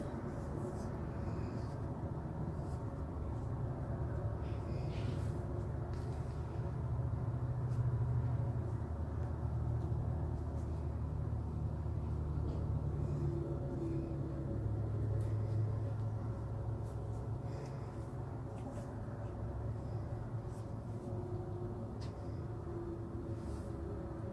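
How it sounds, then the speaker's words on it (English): Outdoor road traffic drifts in from outside as a continuous low rumble and broadband hiss across the whole stretch, steady and fairly distant, with no talk. "the one thing I don't like is the traffic"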